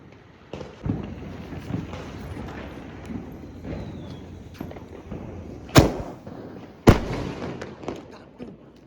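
Diwali firecrackers going off on Lakshmi Pujan night: a steady crackle of distant bursts, then two loud, sharp nearby bangs in quick succession, each with a short echoing tail.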